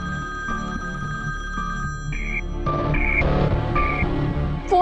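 A telephone rings with a repeating electronic tone over a low musical background, steady and fairly loud in an indoor drama scene.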